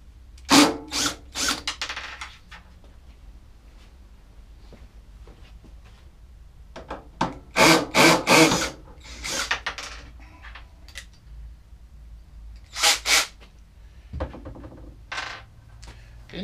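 Screws being removed with a star socket on a power tool, several short loud whirring bursts separated by pauses, with faint handling noises between them.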